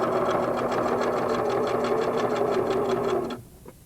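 A Singer sewing machine stitches a quarter-inch quilt seam in a fast, even mechanical chatter of needle strokes, close and steady, then stops abruptly with a faint click afterward.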